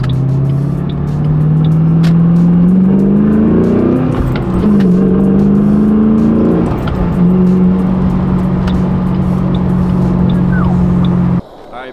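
A car with a tuned 3-valve engine and a Bama Performance tune accelerates hard, heard from inside as a loud, steady engine drone that climbs in pitch, dips at gear changes and then holds.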